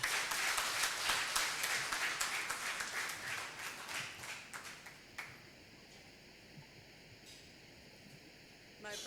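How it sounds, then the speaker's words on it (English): Seminar audience applause, a brief crisp burst of clapping that thins out and fades after about five seconds, leaving quiet room tone with faint ringing. "That applause is low."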